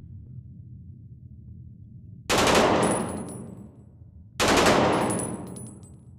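Two loud gun bursts in the VR shooter game Blood Trail, each a sharp blast with a ringing decay, separated by a couple of seconds over a low background hum.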